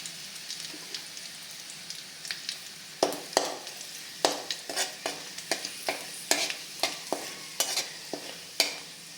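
Cut dried red chillies crackling in hot oil in a pan, a steady sizzle broken by sharp, irregular pops and spatters, close and clear, with no voices.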